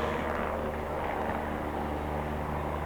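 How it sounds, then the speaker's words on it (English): Helicopter passing low over a high school baseball championship game field, a loud steady rotor drone that holds through, heard from the field. "there's a helicopter coming. It's coming right over the field."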